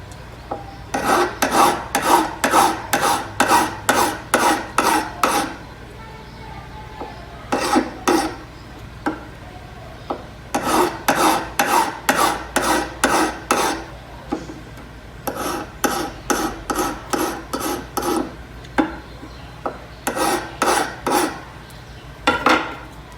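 Metal file rasping across the tips of a pair of pliers to even them, rhythmic back-and-forth strokes in several bursts separated by short pauses, close and crisp with no talking.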